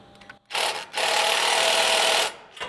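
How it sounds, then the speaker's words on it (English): Socket wrench on a long extension cranking the front winch bumper bolts of a third-generation Toyota Tacoma, heard as a brief burst followed by a sustained loud ratcheting buzz lasting over a second, then a faint trailing click. "Now we're gonna tighten up the bolts inside for the bumper."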